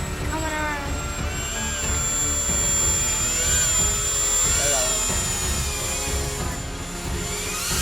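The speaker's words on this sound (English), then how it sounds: "so this is the maiden flight of this jet" A small homemade RC jet on its maiden flight, its engine producing a steady, loud whine and rush that swells and fades slightly as the plane passes, with people talking faintly over it.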